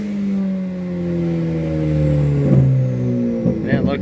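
Tuned Ford Focus ST engine revving near its rev limiter, its tone sweeping downward and then surging again in a loud, close rev with choppy stutters near the end.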